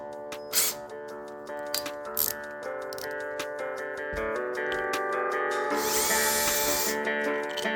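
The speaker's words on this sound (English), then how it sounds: "we're going to want to pre-drill these holes here to screw them down" Power drill pre-drilling screw holes in wooden slats for a ramp repair, heard as several short bursts of whirring with rattling clicks, followed by a longer, louder run of the bit.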